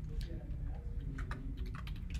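Quick bursts of keystrokes on a computer keyboard as a name is typed, close and clear with a low background hum and no talk.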